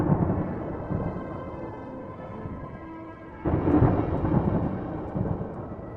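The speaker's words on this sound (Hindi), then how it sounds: "वर्षा ऋतु का मौसम भी आ गया और गांव में जोरदार बारिश शुरू हो गई" Steady heavy rain hisses while a deep roll of thunder rumbles through, swelling louder partway and then continuing low.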